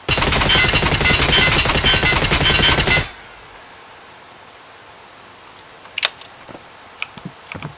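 Sustained automatic gunfire from a rifle fitted with an MFD attachment in SPT Tarkov, a loud, dense rapid burst lasting about three seconds that cuts off abruptly, followed by quiet room tone with a few faint clicks and rustles.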